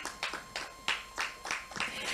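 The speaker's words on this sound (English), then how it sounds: "A round of applause, please" An awards ceremony audience applauds an awardee, a thin run of separate, spaced claps that sounds fairly quiet and distant, with no voices over it.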